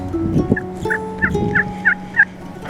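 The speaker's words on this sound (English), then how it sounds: "soon enough, we saw a big gobbler in the riparian woods below us" A wild turkey gobbler in riparian Kansas woods gobbles in a quick run of about six rippling calls, fairly close and clear, with no speech over it.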